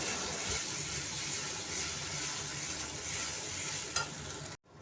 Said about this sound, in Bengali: মশলা দিয়ে ভালো করে পেঁয়াজ টমেটোর সাথে মিশিয়ে নিতে হবে